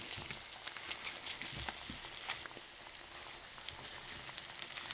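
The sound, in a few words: egg frying in a pan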